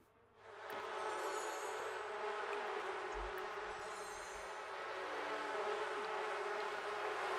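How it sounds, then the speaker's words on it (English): Bees buzz in a video game, a steady, dense drone that swells in after a brief quiet start and holds evenly throughout, with no one talking. "Look at those bees, what a cool animation."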